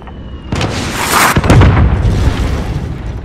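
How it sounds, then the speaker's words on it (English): Sentry gun blowing up in Modern Warfare multiplayer: a sharp close blast followed by a second loud bang and rumbling debris, with scattered gunfire crackle in the background. "Friendly sentry gun destroyed."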